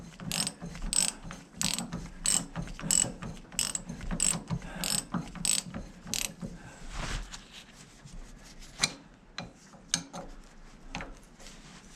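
A socket ratchet working on the steering ram of a David Brown 996 tractor, rapid clicking ratchet strokes in quick regular bursts, close and fairly quiet, followed by a few looser metallic knocks and clicks.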